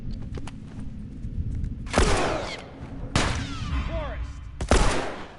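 Gunfire in the video game The Last of Us: three loud bursts of shots cut through a steady background of game ambience, with a few lighter clicks and mechanical sounds between them.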